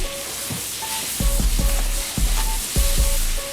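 Butter and chopped onions sauté in a pan, giving off a loud, close sizzle, with the spatula scraping and stirring in repeated strokes about every half second.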